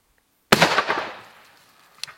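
An old hunting shotgun fires a handmade super magnum cartridge: one loud, sharp boom that decays over about a second, followed by a fainter metallic click.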